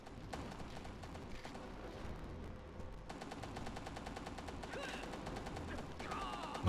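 Rapid automatic gunfire in a GoldenEye-style shooter, with a steady stream of quick shots throughout and a denser burst partway through, fairly quiet and continuous.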